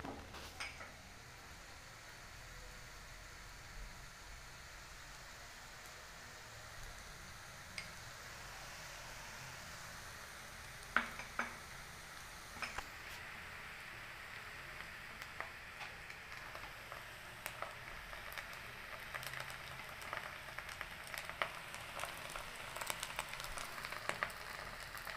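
Golden-brown onions fry in a pan with salt and ginger paste for chicken chaap, a faint, steady crackle with scattered light ticks and occasional utensil clicks, growing slightly busier toward the end.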